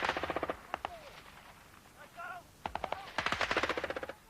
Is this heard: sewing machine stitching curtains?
no